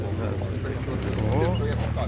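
Pigeons cooing in a loft of cream-coloured birds, soft low rolling coos repeating close by over a steady background hum.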